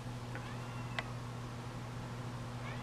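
A faint cat meows once in the distance, soft and brief, over a steady low electrical hum.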